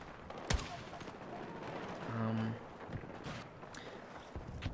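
Gunfire from the first-person shooter Battlefield 6, with scattered shots and short bursts over a busy game soundscape of background noise and movement.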